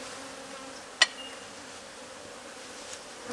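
Aggressive honeybees buzzing around a beekeeper at a hive, a faint steady insect buzz throughout with one sharp tap near the start, quiet and close, no talking.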